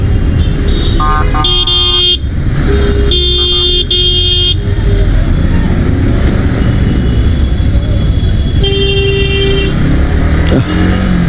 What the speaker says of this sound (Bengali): কিছু রিক্সা আছে ইয়ে মোটর সাইকেল আছে এগুলো সব উল্টা আসতেছে